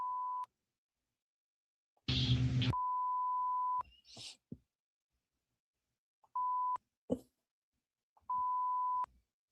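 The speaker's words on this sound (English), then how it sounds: "Oh, I hate that beeping noise." A steady electronic beep sounds in short, evenly pitched bursts during a police custody interrogation, repeating four times over several seconds with silence between, plus one brief loud noise burst; nobody speaks.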